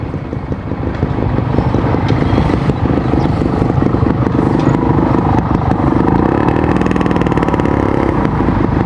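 Road traffic in the Philippines with motorcycles: a loud, continuous engine drone with a rising hum and rattling clatter, as if riding close among passing motorbikes, no talk.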